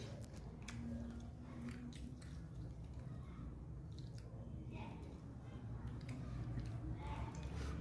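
Someone eats a meal of potato and fish curry, with soft, wet chewing and squishing close to the mic over a steady low background hum.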